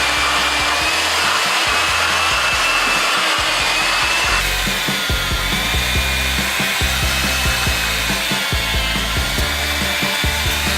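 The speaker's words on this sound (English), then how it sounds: "This little piece of machinery is perfect for the eggplant because it has these sticky prongs that are gonna help secure what you're slicing." An electric meat slicer with pronged holder cuts eggplant into uniform slices: a steady, loud motor whir with rough rasping and rhythmic pulses as the blade passes through the flesh, no talking.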